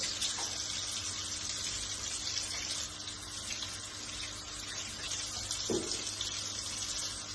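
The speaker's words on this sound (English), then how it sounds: "you just let the water run over it, and it gently peels away ever so slightly" Tap water runs steadily over embroidery stabiliser, a continuous close splashing hiss from a faucet into a sink with a brief louder gush near the end, no talking.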